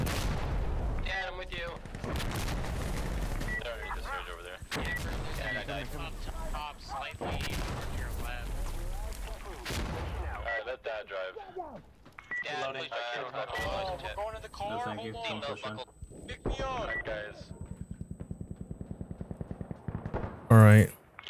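Gunfire in the video game Insurgency: repeated loud volleys and rapid automatic bursts over about twenty seconds, with brief lulls and people talking throughout.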